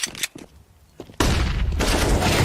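A flashbang grenade goes off in a CS:GO pro match between 100 Thieves and FaZe Clan: after a few faint clicks, a sudden loud full-band burst hits and keeps roaring as a dense, sustained wash to the end.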